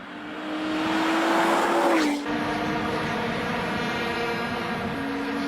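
A Porsche Boxster Spyder engine drones steadily nearby, its note rising and dipping briefly before settling into a sustained, buzzy hum.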